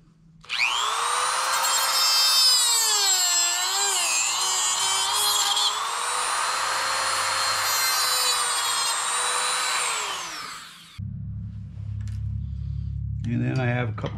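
Power tool slicing through a section of a Spyderco Delica folding knife clamped in a vise, making a loud, sustained, wavering metallic whine for about ten seconds, followed by a lower rough rattling noise.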